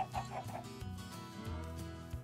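Chickens cluck in a coop in a Minecraft-style video game, with a few short clucks over steady background music.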